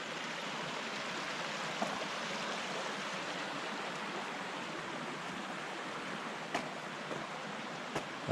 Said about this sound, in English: you're going to come up to a little creek